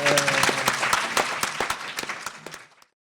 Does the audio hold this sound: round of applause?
yes